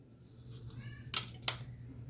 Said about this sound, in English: My cat's just going off in the background.